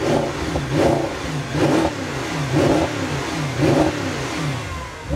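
A car engine running and revving repeatedly at a drag racing event, rising and falling in several regular surges, close and loud with no voices.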